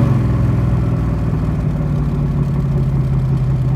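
A 1965 Backdraft Roadster RT4 in British Racing Green rumbles steadily at close range, a deep, even engine drone holding a constant pitch with no voices.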